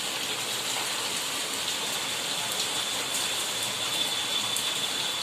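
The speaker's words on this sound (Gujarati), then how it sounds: "જો વરસાદ આવે છે બહાર" Steady rain falls outside, a constant even hiss of drops on surfaces with no talking.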